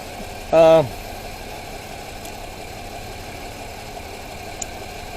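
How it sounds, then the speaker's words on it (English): An engine idles steadily at low volume throughout, a constant even hum, with a brief loud harmonic squeal near the start. "So this Engine runs really clean."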